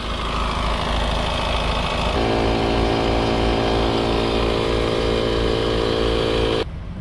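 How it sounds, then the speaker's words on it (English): A Honda Civic diesel engine idles steadily with its particulate filter being serviced, a constant mid-pitched hum that shifts slightly partway through and then cuts off abruptly near the end. "We're doing this with the car running because the DPF sits quite close to the engine."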